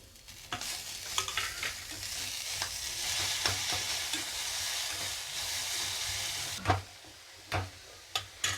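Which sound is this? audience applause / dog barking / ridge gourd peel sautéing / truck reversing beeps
ridge gourd peel sautéing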